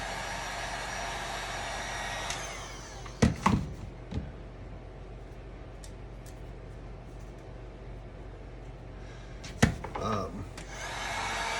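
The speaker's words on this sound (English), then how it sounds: "I'm gonna heat the edges up a little bit, try to pull some wrinkles out of it" A heat gun blows a steady, even hiss as it warms the edges of wrapping film to pull out wrinkles. Several sharp taps and brief handling noises sound over it, and the blower cuts out near the end.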